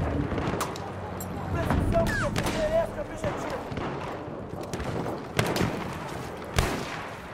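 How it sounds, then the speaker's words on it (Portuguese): A single sharp sniper rifle shot rings out in the World War I shooter Battlefield 1 amid game noise, while players talk excitedly over it. "Olha, olha um tiro de sniper, quase que pegado em mim."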